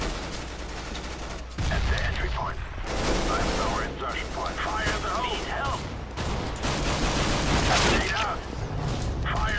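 Gunfire rattles in dense rapid bursts and volleys during a Counter-Strike: Global Offensive turbo deathmatch gungame, loud and near, with a voice faintly present underneath.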